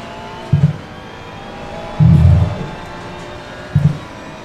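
A BMW race car in the Assetto Corsa Competizione racing game, heard as three short, loud bursts of low engine roar, with the longest surge in the middle, over a steady quieter background hum.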